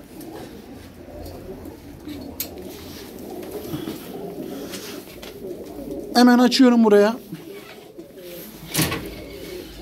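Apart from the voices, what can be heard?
pigeons cooing in a shop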